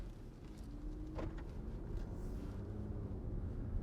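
Steady, muffled low road and engine rumble from inside a 2010 Jaguar XF 3.0 TD V6 as it pulls away and drives along, quiet and even, with no talking.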